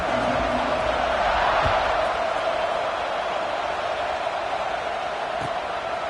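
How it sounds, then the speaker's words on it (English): Dense stadium crowd buzz from a football video game, a steady loud roar with no clear peaks, continuous throughout. "this crowd is buzzing after that last score"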